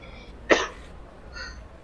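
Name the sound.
coughing a few times into a microphone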